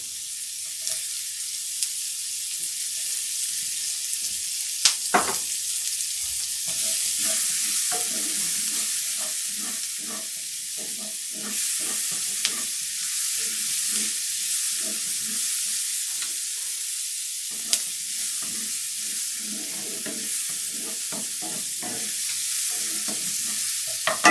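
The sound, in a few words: onions and green onion frying and being stirred in a pan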